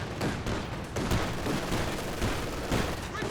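Gunfire in the strategy game Company of Heroes 2: dense, overlapping rifle and machine-gun bursts, loud and continuous, with the odd heavier boom mixed in.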